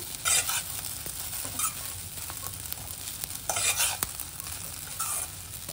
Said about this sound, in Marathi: आपल्या खिचडीवर खूप सारी कोथिंबीर पण आपण मिक्स करून घेऊया।